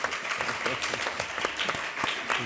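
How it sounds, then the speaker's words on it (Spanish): A crowd claps steadily, a dense patter of applause sustained throughout at moderate loudness. "creo que deberíamos todos darle un aplauso a Enrique y a Francis Mojica"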